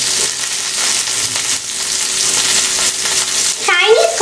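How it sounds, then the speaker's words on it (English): Ginger, garlic and spring onions frying loudly in a pan with a dense, steady sizzle and stirring scrapes, then a sharp burst of crackling spatter near the end. "To a pan, I'm just gonna add in the the ginger, then the garlic, then the spring onions."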